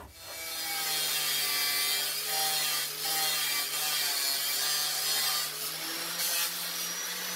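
A hand saw cuts a piece off a threaded steel rod in a workshop, its strokes rasping steadily and closely for several seconds with a faint metallic ring and no talk.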